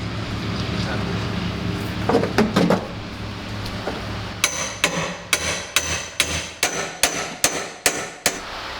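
Steady hammer blows ring out in a regular rhythm, about ten sharp strikes close by, following some scattered clatter, while fitting a car roll cage.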